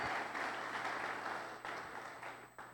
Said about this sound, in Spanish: Dele un aplauso al Señor si usted se lo quiere dar en esta mañana.